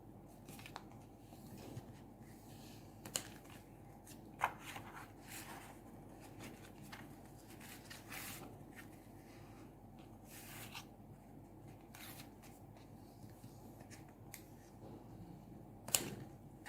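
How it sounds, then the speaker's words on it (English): Paper hinges on a mini album are burnished with a tool, giving faint, soft rubbing and scraping strokes with occasional light taps against a quiet background. "So you're just burnishing those hinges all in one direction first, and then we'll burnish them in the other direction."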